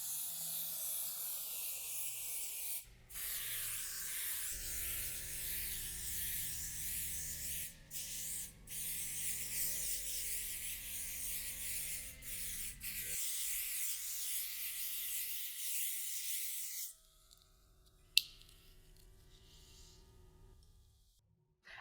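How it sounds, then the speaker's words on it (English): Spray adhesive hissing steadily from an aerosol can onto quilt backing hung on a wall for basting, in long continuous bursts with a few brief pauses, fairly close and alone. "As you can see, I did a nice generous spray and now we're ready to smooth the back."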